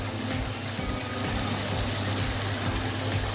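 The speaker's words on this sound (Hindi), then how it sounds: "और मैं यहाँ डालूँगी तकरीबन आधा कप" Water poured into a pot of chicken korma, a steady broad rush of liquid that continues evenly throughout with a low rumbling undertone.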